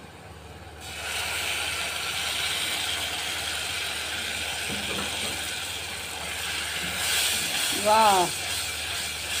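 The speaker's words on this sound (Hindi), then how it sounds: "ये आवाज़ें कितनी अच्छी लगती हैं ना मसाला भूनने की।" Masala spices fry with onions in a pan for a shalgam methi (turnip and fenugreek) dish, giving a steady, close hiss of sizzling. A voice exclaims briefly near the end.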